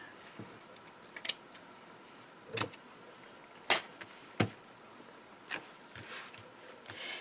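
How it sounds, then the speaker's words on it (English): Scissors trim fabric on a handmade card in a few short, crisp snips spaced apart, close and quiet against a faint room hush. "You might have to trim a little bit of the fabric on the side."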